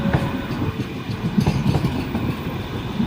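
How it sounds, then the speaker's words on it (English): A Manchester Metrolink tram pulls away from a station near Manchester Airport, its steady rumble and rhythmic wheel clatter on the rails continuing close by without any talk. "And the same 3077 Manchester Metrolink service is leaving."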